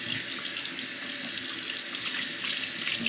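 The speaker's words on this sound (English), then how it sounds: "thoroughly rinse the 5K. I'll rinse out the Atoma plate too" A Shapton 5k whetstone and an Atoma diamond plate are rinsed under a running tap, a steady, close, continuous splash of water with no voices.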